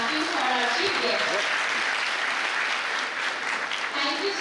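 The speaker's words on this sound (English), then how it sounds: "Round of clapping for our chief guest." An audience at an academic event claps for the chief guest in steady, continuous applause, with some voices audible beneath the clapping.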